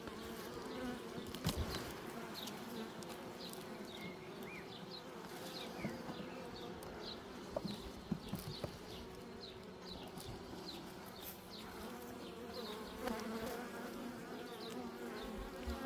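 Dense, steady droning buzz of many honeybees close by, continuous and even throughout with no voices.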